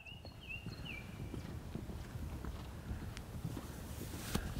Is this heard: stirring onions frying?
no